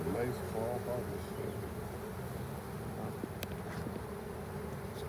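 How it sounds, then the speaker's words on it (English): Honeybees hum at an apiary hive during a fall pollen harvest, a low steady buzzing drone throughout with some background noise and faint talk. "bees are still collecting pollen there"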